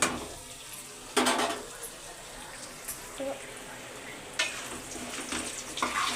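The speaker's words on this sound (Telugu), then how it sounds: "చికెన్ అయితే బాగా ఫ్రై అయిపోయింది" Chicken frying in a pan for fried rice, with a steady sizzle broken by a few sharp scrapes and clanks of a utensil stirring against the metal.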